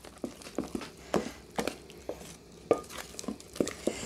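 Vegan ginger cake batter being mixed by hand in a bowl, with irregular soft knocks and scrapes of the utensil against the bowl, close and fairly clear, without talking.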